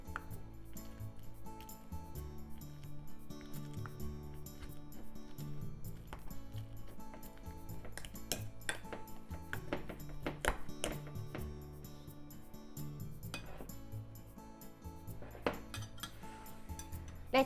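Potatoes are mashed with vinegar, salt and pepper in a bowl, a quiet, close run of irregular clinks and scrapes of utensil against the bowl, tapping and knocking repeatedly with no talking.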